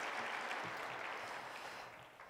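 A church congregation applauds at a Sunday evening service after a praise team performs, a dense, steady wash of many hands clapping together that fades slightly toward the end.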